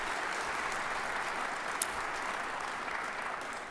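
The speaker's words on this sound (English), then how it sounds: "so can we give Nicole a round of applause?" Steady audience applause at an AHL Hall of Fame ceremony in Rockford, a dense even wash of clapping filling the room for nearly four seconds without a break.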